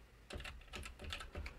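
Keys tapped on a computer keyboard while entering a table in OneNote notes, a quick run of clicks in about four short bursts, close and moderately loud with no talk.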